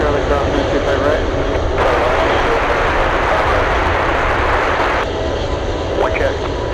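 At Anchorage airport a 707's jet engines power up with a loud, broad, sustained roar that swells and holds, alongside radio talk from air traffic control.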